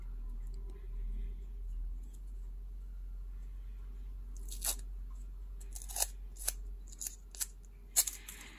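Thin paper medical tape is handled and snipped, with quiet rustling followed by several sharp, close crisp cuts near the end over a faint background hum.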